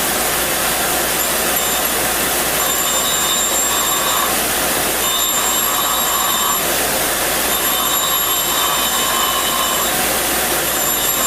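A grinding wheel cutting clearance inside a drilled hole in metal produces a loud continuous high-pitched grinding whine with a harsh rushing tone. It stays steady for the whole stretch, rising and easing slightly in regular pulses.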